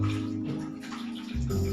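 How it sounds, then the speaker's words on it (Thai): Hot water splashes and gurgles as it is poured out of a bottle during a classroom science experiment on inflating balloons and crumpling bottles. The pour runs steadily for under two seconds and thickens near the end. No one talks. "เทน้ำออกก่อน"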